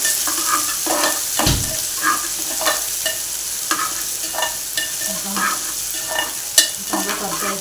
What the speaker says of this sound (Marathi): त्यामध्ये बारीक केलेला कांदा, लसूण पाकळ्या आणि मिरची सगळं टाकून घेऊया आणि हे चांगलं परतून घेऊया